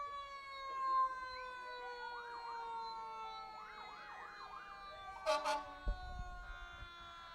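Fire department emergency vehicles pass in a St. Patrick's Day parade in Fox Lake, their wailing sirens rising and falling steadily at a moderate distance, with brief horn blasts and street noise toward the end.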